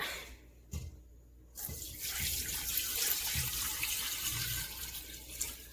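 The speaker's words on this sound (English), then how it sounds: "Then we're going to fill it up." Tap water pours into a big pot holding beef rib bones, a steady close gush starting after a short pause and running continuously.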